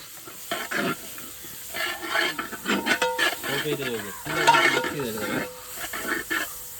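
Biryani rice and spices for chicken dum biryani are stirred in a pot, with repeated close scraping and hissing sizzle in uneven bursts.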